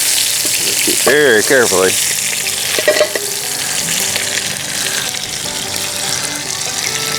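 Seasoned meat shanks sear in oil in a Dutch oven over a campfire, a loud, continuous sizzle and hiss that fills the whole stretch, with a brief spoken remark and a few metallic scrapes partway through.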